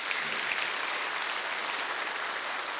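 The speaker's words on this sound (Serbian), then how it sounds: "Molim jedan aplauz." A TV studio audience claps steadily in a dense, even round of applause that holds at one level from start to finish.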